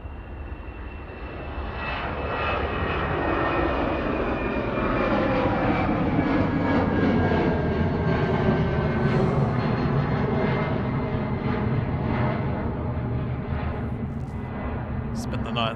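An Airbus A319 takes off at Manchester Airport bound for Brussels, its jet engines building into a loud, sustained roar that holds steady throughout, with a voice talking over it.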